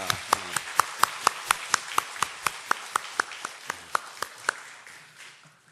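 Clapping at a church service welcoming two young guest singers, heard as a steady run of close, sharp claps in an even rhythm, thinning out toward the end.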